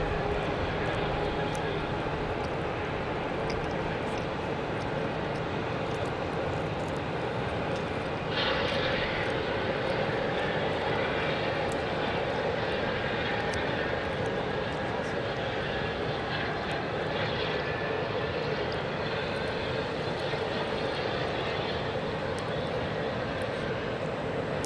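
An airliner from Omaha arrives at Phoenix airport, its engines a long, steady, moderately distant roar that swells slightly partway through, with voices talking over it.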